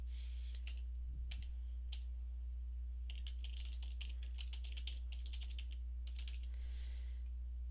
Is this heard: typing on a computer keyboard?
yes